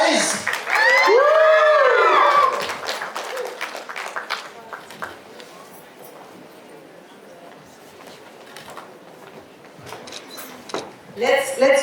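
A crowd of students at a school awards ceremony breaks into loud cheering and whooping with high shrieks, fading into scattered claps and chatter before a fresh burst near the end.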